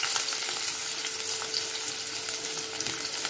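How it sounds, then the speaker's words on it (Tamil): Chopped onions sizzle and fry in a pan, a steady close crackling hiss that continues throughout with no voices. "வெங்காயம் நல்லா வதங்கட்டும்."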